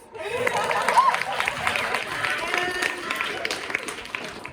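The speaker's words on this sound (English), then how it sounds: "And you can clap." An audience at a stand-up comedy show with a PowerPoint set claps and murmurs, with a lively mix of hand claps and crowd chatter that swells and holds, with a voice mixed in.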